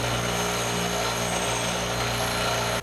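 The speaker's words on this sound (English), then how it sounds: "I'll clean them up on the bench grinder." A bench grinder dresses freshly cut steel pieces for a welded storm door bracket, giving a loud, steady motor whine and grinding roar that holds unbroken for the whole stretch before cutting off abruptly at the end.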